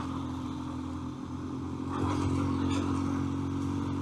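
A motorcycle cruising along a rural backroad in early morning light, its engine a steady low drone with a slight swell partway through, joined by continuous wind rush.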